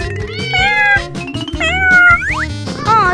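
Several kittens meow loudly and repeatedly, their high wavering cries overlapping one another over a steady low tone.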